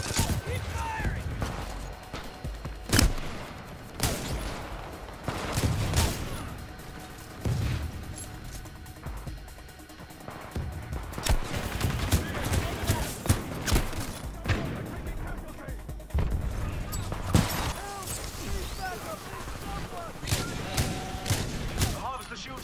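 Automatic weapon fire in the Titanfall 2 frontier defense mode with a Northstar Titan, repeated bursts and heavy thuds in a dense, busy battle mix, with game voices speaking over it.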